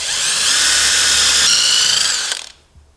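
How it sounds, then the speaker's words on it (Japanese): A power drill whines loudly and steadily while boring a pilot hole in wood for a screw in a furniture woodworking class, then winds down and stops. "はいでは今度は下穴を開けて打ってみましょう"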